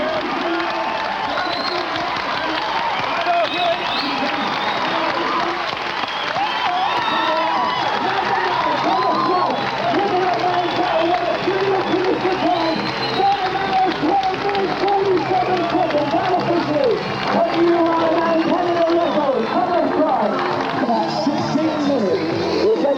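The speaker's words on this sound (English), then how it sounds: "Tom Price, he can hear the commentate now, the roar of the crowd." Spectators roar and cheer at the finish of the Ironman Canada triathlon in 1987, a steady dense crowd din with scattered clapping over the full stretch, while an excited commentator talks over it.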